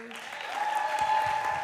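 Audience applause for accompanist Miss Peterson at a school fine arts retreat, a steady wash of clapping from a crowd that holds at even loudness for its short length, with a sustained tone ringing underneath.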